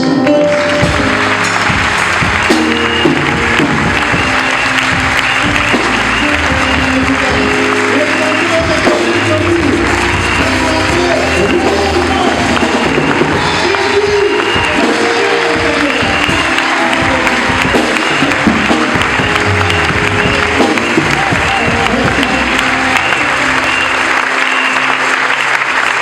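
A congregation applauds steadily and loudly through a Sunday worship service and trainee consecration, with dense clapping over tonal music or singing and a few voices mixed in.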